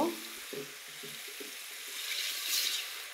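Water is poured onto frying spices in a pan, a sharp hissing sizzle that swells and steams over a few seconds, with a few soft clinks at the start.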